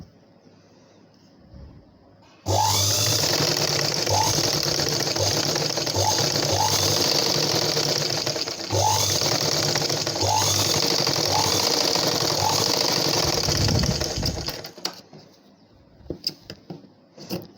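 A sewing machine runs continuously for about twelve seconds stitching blouse darts, a loud, steady mechanical whir with rhythmic needle clatter that starts and stops abruptly, followed by faint handling sounds.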